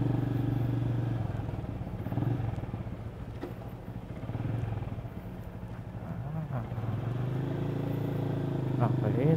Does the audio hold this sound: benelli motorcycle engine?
yes